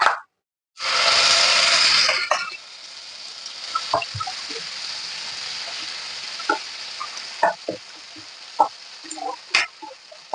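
Prepared masala tipped into hot oil for Kolhapuri mutton sets off a loud burst of hissing spatter that fades after a couple of seconds into softer sizzling, followed by scattered plops and spoon clicks.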